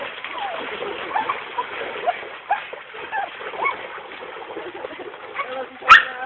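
A dog splashes through river water beneath a bridge, the churning wash steady throughout, with a sharp, louder slap near the end.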